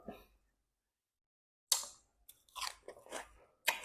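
Someone eats seafood with a dipping sauce at the seashore, with wet crunchy chewing and biting in short close bursts separated by a long silent pause.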